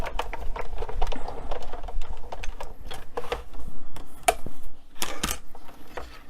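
A Stampin' Up Big Shot embossing machine being hand-cranked, giving a steady run of close, dry mechanical clicks and rattles with a few sharper knocks near the end.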